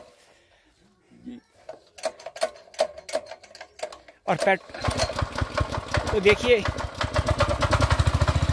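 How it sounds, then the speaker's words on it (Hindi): A petrol-engine power tiller plough on a hillside farm pulls through a few sputtering start attempts, then catches and settles into a loud, rapid, even idle chatter close by, with someone talking over the early attempts. "बहुत इजीली स्टार्ट भी हो गया है। पेट्रोल इंजन में ये चलता है।"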